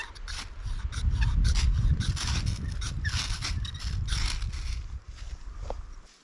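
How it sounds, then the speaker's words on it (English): Spine of a multi-tool saw scraped hard along a ferro rod outdoors, a series of rough rasping strikes in quick succession, close and fairly loud with no talking. "I like to use the back side of my saw on my multi-tool. It's got a really sharp spine on it. Really throws a good spark off the ferro rod"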